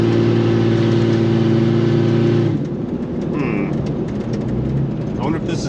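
A Jeep Cherokee with the 4.0 engine, which has a reverse fault on cold start, hums steadily and then shifts through its gears as it pulls away. A voice talks over it close by.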